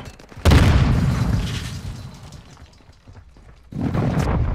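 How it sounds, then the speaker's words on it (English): Video game airstrike: a sudden loud, booming blast that rumbles and slowly fades, followed a few seconds later by a second heavy burst of explosions. "Hostiles called in an airstrike."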